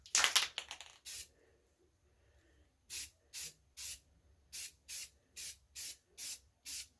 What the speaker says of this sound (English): Couple test sprays, just make sure.